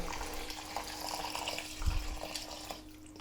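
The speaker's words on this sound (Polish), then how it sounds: "Wlewamy wodę." Water pours steadily into a strainer while making homemade sake, a soft continuous splashing trickle heard close up without voices.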